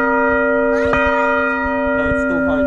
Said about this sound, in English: There's a bell under it in the middle. See? That's what makes the sound.